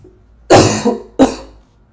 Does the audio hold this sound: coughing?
yes